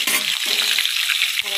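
Eggplant (brinjal) slices fry in a hot pan with a steady, close sizzle and light hiss that holds loud throughout, with a brief dip near the end.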